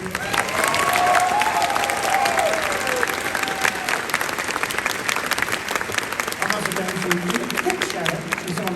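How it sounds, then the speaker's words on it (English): A large convention audience applauds through a closing ceremony, dense sustained clapping with some cheering and voices in the crowd, loud and steady throughout. "Can we get a round of applause for them, please?"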